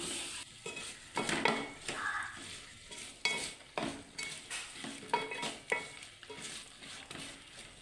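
Tomatoes tossed into frying onions in a pan for a home-style sardine curry, rhythmic scraping stirs with soft sizzling beneath, close and moderately loud, with occasional light clinks of the spoon.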